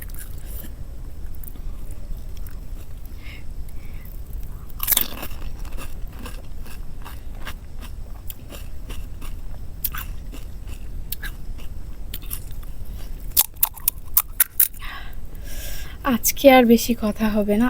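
Crunchy panipuri (fuchka) is bitten and chewed close up, giving sharp crackling bites and wet chewing, with a person talking briefly.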